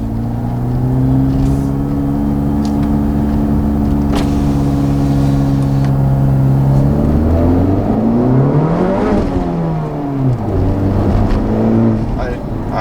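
A 2019 Honda Civic Type R with a Borla exhaust accelerates, its engine drone climbing steadily in pitch, dropping at a gear change near the ninth second, then rising again. The engine is loud and close throughout.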